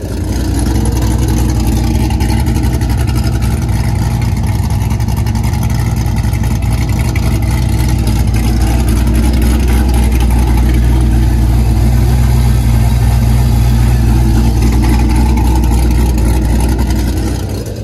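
LS-swapped Ford Mustang with exhaust cutouts open, a loud, close, continuous deep V8 rumble holding steady throughout with no talk over it.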